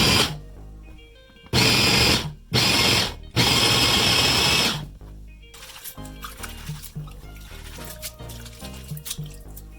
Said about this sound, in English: I'm going to blend it totally with my food processor.